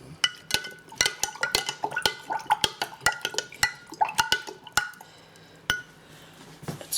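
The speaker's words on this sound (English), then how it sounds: "Let's give it a good stir." A spoon stirs a ginger bug ferment in a glass jar, giving a quick run of bright clinks and taps against the glass with light liquid swishing, close up, then a pause before a few last knocks.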